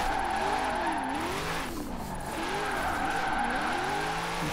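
A C8 Corvette engine in Forza Horizon 4, driven with wheel and pedals while drifting, revving up and down in wavering sweeps, steady and prominent throughout.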